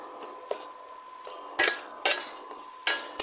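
Jamrul chutney with sugar being stirred in a pan, a spoon scraping and clinking against the metal in a few sharp bursts over a quiet, steady low hum.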